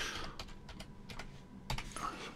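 Quick bursts of keystrokes on a computer keyboard, soft and close, a short flurry of taps with a brief pause midway.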